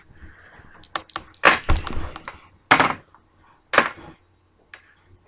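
Computer keyboard keys and mouse buttons click in scattered bursts, several sharp close taps separated by short pauses, with no one talking.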